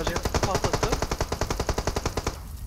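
Rapid, loud bursts of automatic gunfire in PUBG Mobile rattle continuously in a tight, steady rhythm, fading slightly at the very end.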